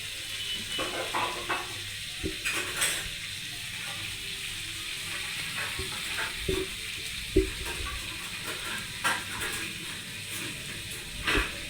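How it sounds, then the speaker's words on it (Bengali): Pointed gourd and potato pieces frying in hot oil, a soft steady sizzle with occasional clinks and scrapes of a utensil, fairly quiet and close. "এবার আমি পটলগুলোকে গরম তেলের মধ্যে ছেড়ে দিলাম।"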